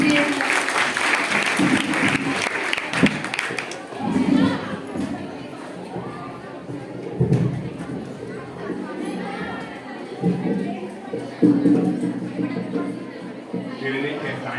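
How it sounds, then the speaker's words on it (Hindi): A crowd claps enthusiastically at a school farewell function, a dense burst of applause that swells and fades, with children's voices and chatter mixed throughout. "जोरदार तालियों से स्वागत कीजिए।"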